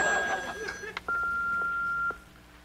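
A telephone rings faintly indoors, with a sustained electronic tone after a few short clicks and fainter sounds at the start.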